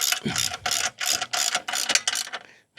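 A wrench ratchets in quick repeated bursts while bolts are tightened on a Young Electric 2-bike hitch e-bike rack; close, crisp clicking strokes with brief pauses between, and no talking.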